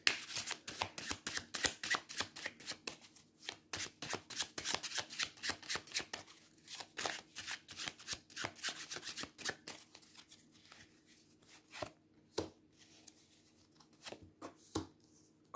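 Tarot cards are shuffled briskly, with a rapid run of crisp riffling flutters that slows into scattered single snaps and taps as cards are drawn and laid down, close and fairly quiet, with no talk.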